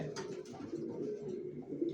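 Racing pigeons coo in soft, repeated throaty calls close by, with a few overlapping birds murmuring continuously and no speech.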